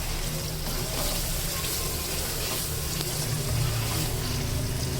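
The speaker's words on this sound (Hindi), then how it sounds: "ये देखिए ये आधा गिलास पानी मैं इसमें डाल दूँ" Half a glass of water poured into a kofta curry simmering in a pan, giving a steady loud sizzle and bubbling hiss that lasts the whole stretch.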